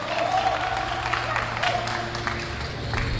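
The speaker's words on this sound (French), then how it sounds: "On applaudit plus fort, s'il vous plaît." An audience applauds in a steady wash of clapping, with a voice speaking over it.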